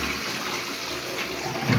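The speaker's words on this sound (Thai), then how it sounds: "ขั้นตอนแรกเราต้องกดชักโครกก่อนนะค" A household flush toilet, its tank about to have its water level adjusted, empties in a steady gurgling rush of water that swells slightly at the end, close and alone without talk.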